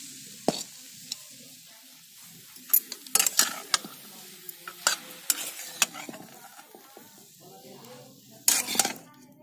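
Cooked greens are scraped and spooned out of a kadhai wok into another pot, with a series of sharp metallic clinks and scrapes over a faint sizzle.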